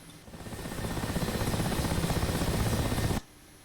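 A helicopter's rotor chop builds and holds in a steady rhythmic thrum as it flies forward, loud and close, then cuts off abruptly.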